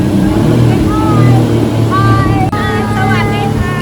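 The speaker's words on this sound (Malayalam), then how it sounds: "പട്ടായ സിറ്റിയോട് യാത്ര പറഞ്ഞ് ഞങ്ങൾ ഐലൻഡിലേക്ക് ബോട്ട് കയറി." Speedboat carrying passengers from Pattaya toward Koh Larn island, its engine droning loudly and steadily throughout with rushing water and wind, and a voice speaking briefly in the middle.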